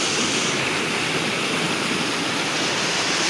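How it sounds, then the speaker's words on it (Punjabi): Canal water pours down in a loud, constant rushing roar close by, with no pauses and no voices. "ਨਹਿਰ ਦਾ ਪਾਣੀ ਥੱਲੇ ਡਾਉਣਾ"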